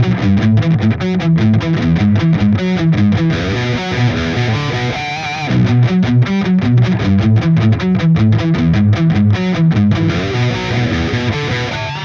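A distorted electric guitar chugs a chord-progression riff dropped an octave onto the low strings, loud and gritty with tight rhythmic picking and no talking over it.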